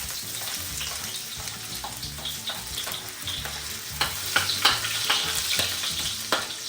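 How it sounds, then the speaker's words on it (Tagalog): Garlic frying in hot oil in a pan, a bright continuous sizzle with bursts of crackling and spatter as it is stirred, growing louder midway. "Ito, magigisa na tayo ng bawang."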